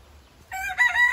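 A lavender Orpington rooster crows a short, bright call after a moment of quiet, close by and clear with no talking.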